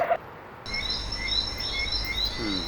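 Birdsong sound effect: bright repeated chirps and tweets carry on steadily against a soft outdoor background, close and clear with no talk.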